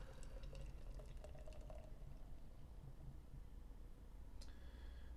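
Drekker Clueless Wonder IPA poured into a glass, a faint steady liquid trickle and fizz with a few light clinks, heard quietly and alone.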